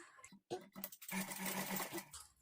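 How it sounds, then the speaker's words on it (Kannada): A sewing machine stitches piping onto a blouse in short, close bursts, stopping and starting briefly before it runs steadily through the rest of the stretch. "ಈ ಕಡೆಯಿಂದ ನಾವು ಸ್ಟಿಚ್ ಮಾಡ್ಕೊಳ್ತಾ ಬರಬೇಕು"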